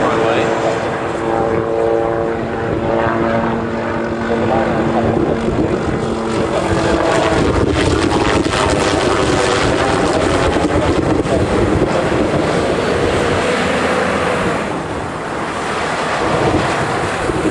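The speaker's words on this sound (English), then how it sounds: "That C-17 on the reef runway just turned onto the reef runway." A C-17 military transport aircraft turns onto the reef runway at Honolulu, its engines a broad, steady jet roar mixed with heavy wind buffeting on the microphone and a voice speaking over it.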